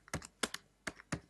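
Keystrokes on a computer keyboard while entering a sale in ERP software: four crisp, close taps in two quick pairs, alone without talk.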